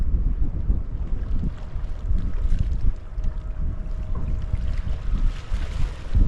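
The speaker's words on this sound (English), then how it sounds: "when it blows, it's proper gusty" Gusty coastal wind roaring and buffeting across the microphone at a sea fishing spot beside a power station, loud and continuous with no talk.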